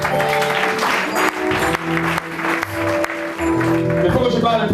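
A church congregation at a consecration service claps and cheers in a sustained burst of applause, loud and close, with voices calling out over the clapping.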